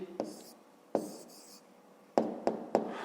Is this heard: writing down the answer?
yes